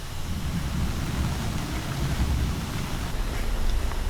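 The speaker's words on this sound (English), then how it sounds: "And I love the sound it makes hitting the soft top." Steady rain from a sun shower drums on the fabric soft top of a convertible car, a dense continuous patter with low rumbling resonance, loud and close with no talking.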